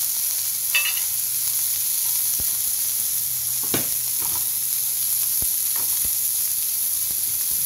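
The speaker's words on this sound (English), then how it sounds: "Alright, put it in there, saute." Wagyu beef sautés in a hot pan with a loud, continuous high sizzle, broken by a few scattered clacks and scrapes of utensils against the pan.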